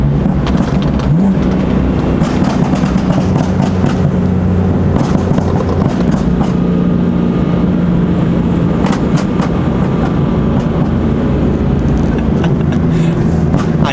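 A BMW F82 M4 burbles loudly nearby with a steady exhaust drone, dotted with crackling pops and bangs from its exhaust during a pop battle, continuous throughout with no voices.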